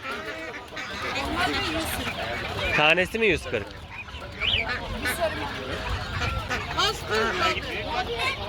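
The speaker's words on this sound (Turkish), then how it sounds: "Bunlar kaz yavrusu." Goose goslings and other fowl at a bird market, with honking and squawking calls scattered through the clip, several sharper cries standing out amid steady chatter from people talking nearby.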